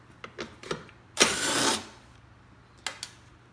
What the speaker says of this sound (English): So the first thing that we will do is take off the 10mm bolt on the side